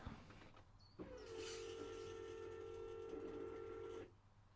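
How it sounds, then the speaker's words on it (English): Electric fuel pump inside the tank of a 2018 Vauxhall Astra K 1.6 CDTi with an intermittent starting fault whirs into a steady tonal whine for about three seconds, then stops; heard faintly and somewhat distant. "You can hear the initial squirt of that pump"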